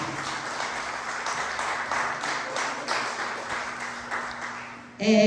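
A church congregation applauds during a worship service, a steady wash of many hands clapping at moderate loudness that ends abruptly near the close, where a short burst of voice or music takes over.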